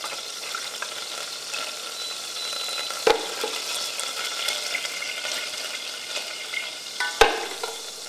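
Butter melts and sizzles in a pan for a roux, a soft, steady frying hiss throughout with two sharp clicks or taps of a utensil against the pan.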